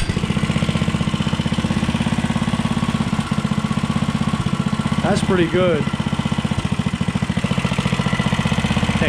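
A 105cc mini bike engine chugs at a steady, fast idle after starting, close and loud throughout, while a person speaks briefly over it partway through.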